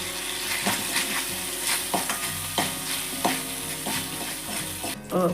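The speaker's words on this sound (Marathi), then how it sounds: "बदाम आणि पिस्ता ते जरा फ्राय करून घेते" Almonds and pistachios frying in a pan with banana for coconut rice, a soft continuous sizzle with a spoon stirring and scraping in regular strokes, fairly quiet and with no voices.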